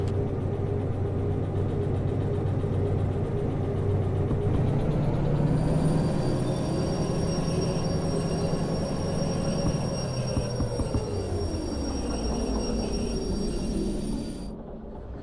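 A locomotive in the Derail Valley game rolls along with a steady low engine drone and mechanical rumble, its pitch slowly shifting, with a high whine entering midway; no voices.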